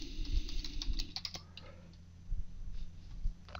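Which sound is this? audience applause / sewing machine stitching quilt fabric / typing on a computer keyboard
typing on a computer keyboard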